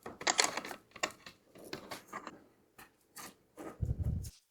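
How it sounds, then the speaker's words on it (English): Small screws being fitted to join the plates of a Pironman 5 case for a Raspberry Pi 5: a run of sharp, close clicks and light metallic taps, with a duller handling rattle near the end. "On step 24, we join these plates by attaching the screws."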